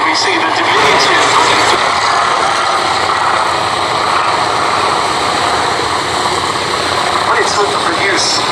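A Grumman F4F Wildcat fighter flies at a VE Day air show at Imperial War Museum Duxford, its piston engine a loud, steady, broad roar that holds throughout.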